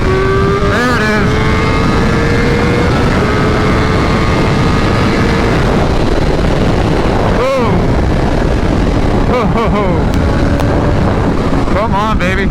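A 2023 BMW M1000R motorcycle with a stock ECU pulls from 60 to 130, its engine note rising steadily through the gears with brief dips at each shift, and heavy wind roar throughout.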